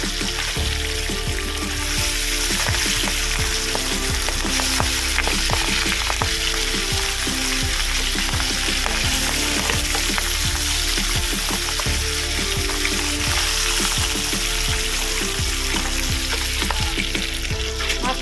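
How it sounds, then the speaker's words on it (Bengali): Pabda fish frying in a pan of hot oil with salt and turmeric, a loud steady sizzle that runs the whole time, with small clinks and stirring pops on top and no talking. "মাছের ভাজা হয়ে গেছে আমি দিয়ে"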